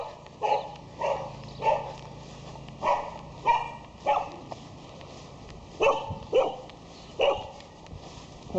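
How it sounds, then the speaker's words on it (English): A puppy barks repeatedly outdoors while walking around town, about ten short sharp yips spaced roughly a second apart over a faint background hum. "Puppy."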